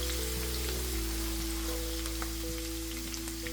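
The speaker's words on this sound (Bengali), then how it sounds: "একই সঙ্গে অ্যাড করে দিব চপ করে রাখা গার্লিক। হালকা একটু ভেজে নিব।" Chopped garlic frying in a pan, a steady crackling sizzle with scattered pops, close and continuous over a low electrical hum, with no one talking.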